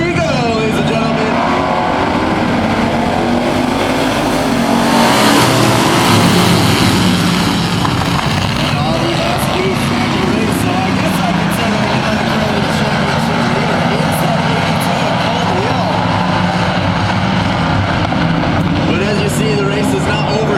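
Thunder Truck race trucks roar around an oval track during a green-flag main event, a dense continuous engine drone with swelling passes and a louder surge near the middle, under steady crowd and track noise.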